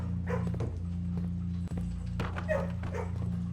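A dog in the video game Blue Prince gives a few short barks, close and moderately loud over a steady background hum.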